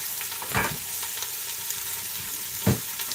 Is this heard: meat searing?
yes